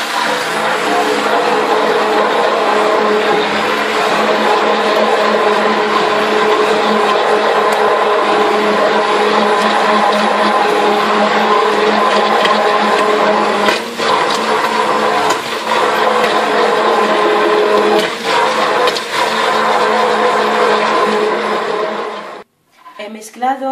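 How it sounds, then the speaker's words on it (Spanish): An electric hand mixer whirs steadily, blending baghrir crepe batter in a bowl. The motor drones loud and continuous for over twenty seconds with small dips, then cuts off abruptly near the end. "con la ayuda de una batedora, nos vamos a mezclar todo."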